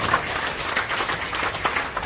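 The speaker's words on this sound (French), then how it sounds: "Ça mérite des applaudissements, n'est-ce pas?" An audience at a school tribute ceremony breaks into brisk clapping for a long-serving teacher. The applause is close and lively, with sharp claps scattered across two seconds.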